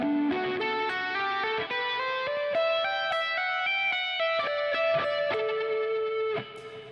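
Fast legato run on electric guitar through effects, a smooth stream of bright distorted notes climbing and descending in quick succession with reverb and chorus trailing under them.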